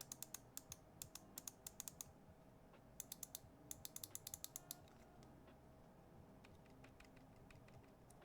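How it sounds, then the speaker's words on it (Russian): The loose back button of a G-Wolves Lycan mouse is pressed repeatedly, giving quick bursts of faint, close, sharp plastic clicks and rattles over a low background hum. "А буквально сегодня на задней кнопке появился дребезжащий люфт"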